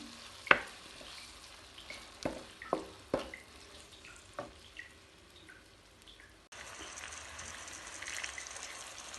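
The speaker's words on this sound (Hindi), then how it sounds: "और टमाटर को इतनी देर तक पकाएंगे कि ये अच्छी तरह से नरम हो जाए।" Chopped tomatoes and green chilies frying in a pan, with several sharp knocks of a spoon or spatula stirring over a soft sizzle that grows louder and steadier toward the end. No voices.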